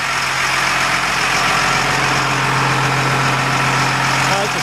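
An M1078 military truck engine idles loudly and steadily up close, a deep constant rumble with a low hum, while someone talks over it.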